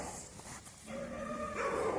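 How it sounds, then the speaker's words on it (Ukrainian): Several dogs bark in the distance in the Saltivka district of Kharkiv on an evening, a few yelping barks over a steady background hum. "Собаки гавкають."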